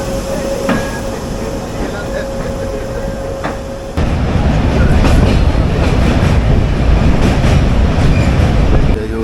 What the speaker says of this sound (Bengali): তো জাস্ট ছাড়লো ট্রেন